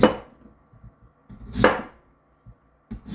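A kitchen knife chops through radish on a cutting board for rice dish prep, giving three crisp, close cutting strokes spaced about a second and a half apart, with faint board taps between them.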